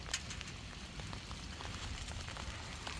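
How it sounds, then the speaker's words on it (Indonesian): Heavy rain pours down in a Japanese village, a dense, steady hiss of drops striking surfaces close by, continuous throughout with no speech. "Hujannya gede kayak gini."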